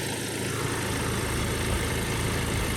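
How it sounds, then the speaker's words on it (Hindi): A Kia Seltos HTX with the 1.5 CRDi 16V diesel engine, four years old, idles steadily up close, a constant low rumble with no voices over it. "चलो यार, इसका इंजन और बाहर से भी इसका आवाज़ देख लो डीजल का।"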